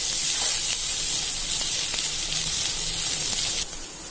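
Ginger-garlic paste sizzles loudly in hot oil with sautéed onions in a pan, a steady frying hiss that runs unbroken and drops slightly near the end, with no talking.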